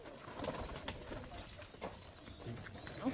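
Pigeons, including a female, coo softly nearby in a loft in low, repeated murmurs, with light rustling and shuffling around them.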